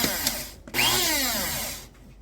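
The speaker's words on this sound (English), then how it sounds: "This is the KRUPS coffee and spice grinder." A KRUPS Fast Touch electric coffee and spice grinder, 200 watts with a 75 g capacity, whirs loudly and close. A short burst is followed by a steady, sustained grind of about a second before it winds down.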